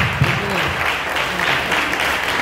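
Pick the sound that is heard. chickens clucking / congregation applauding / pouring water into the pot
congregation applauding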